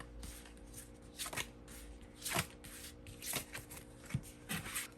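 Tarot cards are shuffled and drawn in a steady run of soft riffling bursts and light slaps, close and fairly quiet, with no talking.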